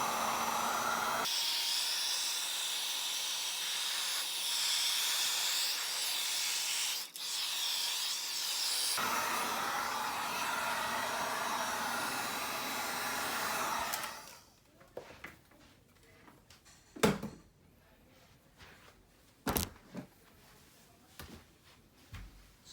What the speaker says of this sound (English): So just set the heat gun out to the side.